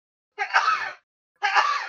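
Two sharp, breathy sneezes burst out close to the microphone in quick succession during a quiet moment of a sports podcast recording, with a short pause between them.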